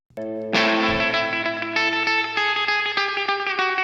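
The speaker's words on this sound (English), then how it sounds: "It's a plate, pretty long decay." A single struck tone rings out through a plate reverb on a neo-rockabilly mix, its long, lush reverberant tail hanging and slowly fading, with a few softer notes layered in.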